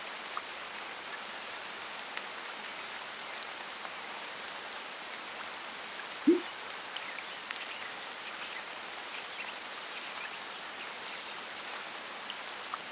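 Heavy rain pours steadily as a dense, even hiss throughout, with a single faint knock partway through.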